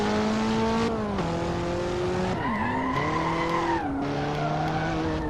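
A car drifts with tires squealing loudly in the Hot Wheels Universe Zero video game, the engine note sliding up and down over a continuous, steady screech with no talk.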